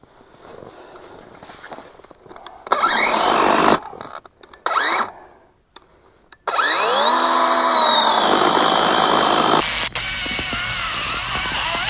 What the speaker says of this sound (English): here we're running our 20-volt DeWalt battery chainsaws